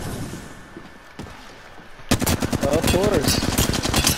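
Video game combat with quiet background rumble suddenly gives way to sustained close machine-gun fire, a dense rapid train of loud shots continuing to the end while a voice speaks briefly over it.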